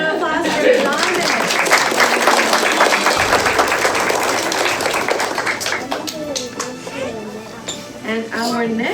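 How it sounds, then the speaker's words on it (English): Parents and guests clap for a graduate at a kindergarten graduation ceremony, a busy scatter of applause mixed with voices and cheering, with speech rising over the clapping later on. "A huge round of applause for Adonis."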